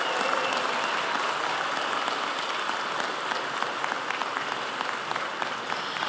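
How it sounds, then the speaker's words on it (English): Steady, dense applause from a large audience at a sheriff's office commendation ceremony, holding an even level throughout with no voices standing out. "give one final round of applause to all of our recipients tonight"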